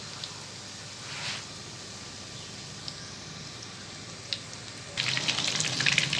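Chicken 65 pieces frying in oil on a medium flame, a soft steady bubbling hiss that turns into a louder crackling sizzle near the end, no voices.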